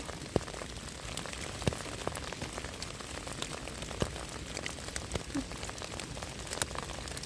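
Rain falls steadily through a German forest in winter, a soft, even patter with scattered sharper drops striking leaves, faint and continuous with no voices.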